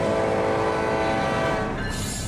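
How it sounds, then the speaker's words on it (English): La Bestia, a freight train crossing Mexico, rumbles close by with a loud sustained horn blast over the rolling noise, then the horn drops away as the wheel and wind roar continue. "a death-defying journey on top of a freight train"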